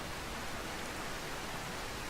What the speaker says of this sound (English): Oh, now it's raining. It's raining quite heavily, actually.